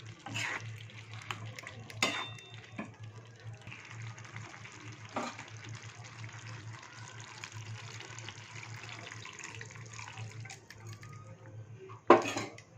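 Water is added to potatoes, ridge gourd and poppy seed paste in a cooking pan, and the mixture is stirred with soft sloshing and scraping, plus a few sharp utensil knocks against the pan.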